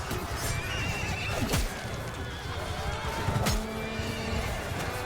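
A horse whinnies loudly twice, over a busy battle din of clattering hooves and crashing noise in a video game.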